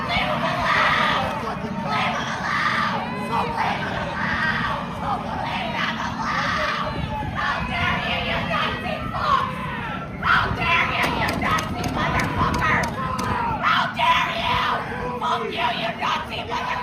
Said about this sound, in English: Why do these people always screech?